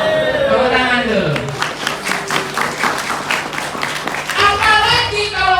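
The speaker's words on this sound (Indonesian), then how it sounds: "Tepuk tangan dulu." Crowd applause during an Islamic sermon: a dense, loud burst of many hands clapping that swells mid-way, with a voice and other voices heard speaking over the start and end.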